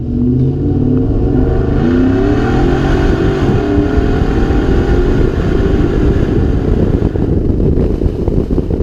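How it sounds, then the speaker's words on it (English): A 2019 Ford F-150 pickup's V8 with a 10-speed automatic roars steadily under hard acceleration, a deep loud drone with rising pitch and some wind rush, no talking. "Good, strong acceleration from the V8 and the 10-speed auto."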